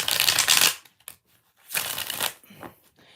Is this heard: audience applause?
no